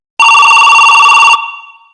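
A cartoon animation's telephone gives a single loud, bright electric ring of about a second, then its ringing tone fades out.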